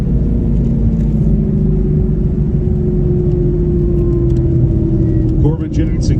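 A 2018 Ford Mustang race car engine holds a loud, steady rumble with a sustained droning tone, close by, and dips briefly near the end.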